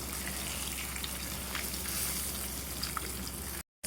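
Shing fish (stinging catfish) frying in hot oil: a steady, soft sizzling hiss with scattered small crackles and pops that runs evenly throughout before cutting out at the very end.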